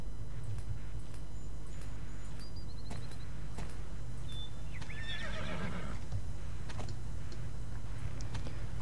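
A horse in the video game Star Stable Online gives a whinny midway, amid clip-clopping hooves and scattered clicks over a steady low game hum, with no talking.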